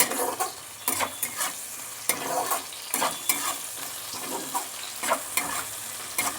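Onion and garlic frying in oil with ginger paste in a home kitchen, a steady sizzle broken by repeated scraping stirs roughly every second, close and fairly loud with no talking.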